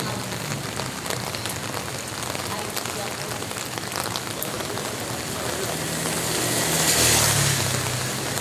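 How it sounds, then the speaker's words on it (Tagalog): Heavy rain pours steadily onto a surface in a city, a dense continuous hiss that swells louder toward the end, with a faint low engine rumble beneath. "Lakas ng ulan."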